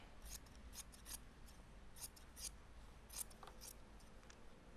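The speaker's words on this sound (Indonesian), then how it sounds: "Dan kita rapihkan pinggirannya, jangan terlalu gede, gunting secukupnya." Sewing scissors trimming the edges of a fabric shirt collar, a series of faint, crisp snips in irregular bursts over a quiet background hiss.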